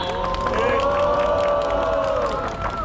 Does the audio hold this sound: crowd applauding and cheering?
yes